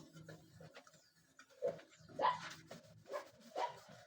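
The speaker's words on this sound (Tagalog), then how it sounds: "yung aso po namin" A dog gives a few short, muffled barks and whimpers at a distance, spaced out over a quiet background.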